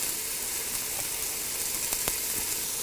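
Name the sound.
beef cubes searing in a pressure cooker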